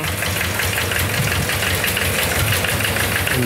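Tractor engine idling in a field beside a Lanz binder, a steady close, loud knocking chug with a constant rhythmic pulse and no talk over it.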